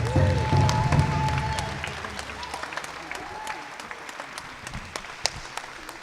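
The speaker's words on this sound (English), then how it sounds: "big round of applause." Audience applause at a school honor day ceremony, a broad wash of clapping that starts full and gradually thins and fades over about six seconds, with a few sharper individual claps near the end.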